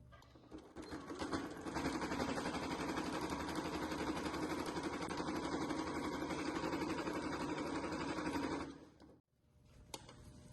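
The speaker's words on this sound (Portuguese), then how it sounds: "vou na máquina fazer um pesponto" A sewing machine runs a long continuous topstitch on a family-size beach bag, a fast steady whirring close by for about eight seconds before stopping abruptly, followed by a faint click.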